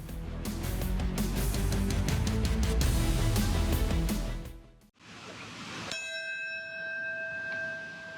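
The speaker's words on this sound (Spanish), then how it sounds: "Una campana sonó a las 8:46 de la mañana" At a September 11 memorial commemoration, a single bell strike rings out clearly and hangs in a long, clear ringing tone, following a burst of dense, loud noise.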